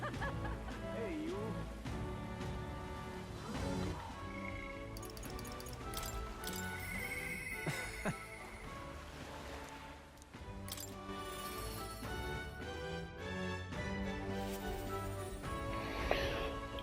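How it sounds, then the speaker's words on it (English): Rain patters in the Metaphor: ReFantazio game world, a steady ticking drizzle beneath busy game music and effects, moderately loud and constant. "it's raining right now"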